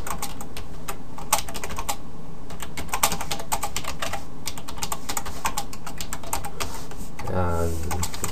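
Rapid, uneven keystrokes on a computer keyboard as HTML code is typed, close and steady throughout, with a brief low sound near the end.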